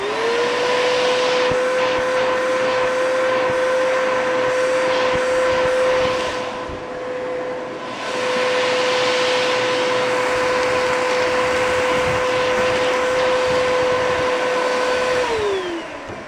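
A Bissell vacuum cleaner with no suction runs with a steady high motor whine and airflow rush, loud and close, dipping briefly in the middle before winding down near the end.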